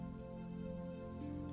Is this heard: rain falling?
yes